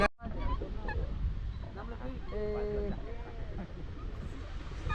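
Ducks honking and quacking nearby on water, heard from a boat, a few clear harmonic calls around the middle, over steady background noise and murmuring voices.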